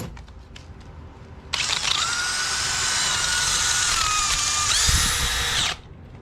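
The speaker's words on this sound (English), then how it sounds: "Now you have flap sander." Homemade flap sander spinning in a power drill, a steady high whine that starts abruptly and runs several seconds, its pitch shifting slightly under load before cutting off, close and loud.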